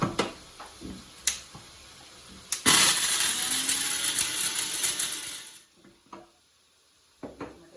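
A mixer grinder whirs loudly for about three seconds grinding garam masala, bracketed by scattered clicks and knocks before and after.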